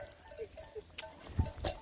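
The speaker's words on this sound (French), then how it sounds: "Regarde tous les moutons qu'il y a." Flock of sheep in the middle of a road in Albania, with faint scattered bleats and a few soft thumps and rustles at a distance, under quiet outdoor background.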